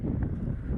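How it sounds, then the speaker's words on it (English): Gusty wind buffets the microphone outdoors at a campsite, a steady low roar filling the whole moment with no break. "Dang, I wish it wasn't so windy."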